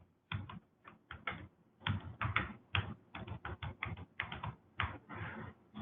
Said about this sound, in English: A correspondence window will appear, and you could type in your message.